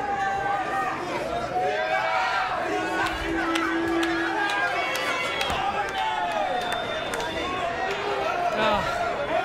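Irish fans roar in a crowded arena during a women's MMA bout between McCormack and Machado. Loud, sustained crowd noise with shouts and chanting runs throughout, under continuous commentary.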